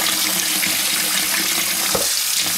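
Tap water runs steadily into a sink while dyed yarn is rinsed under the stream, giving a loud, close splashing rush that briefly changes near the end.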